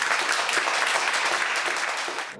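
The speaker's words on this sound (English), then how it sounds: "Would you give them a round of applause, please?" Audience applause for panelists at a China-EU climate cooperation event, a brief burst of dense, steady clapping that fades out at the end.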